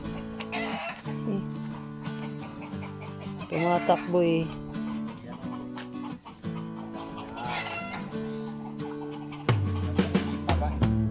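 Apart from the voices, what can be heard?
chicken clucking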